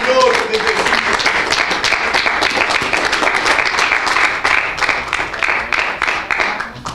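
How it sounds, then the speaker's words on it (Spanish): Church congregation gives a lively round of applause to the Lord, dense continuous clapping filling several seconds with voices mixed in. "Dile un aplauso al Señor"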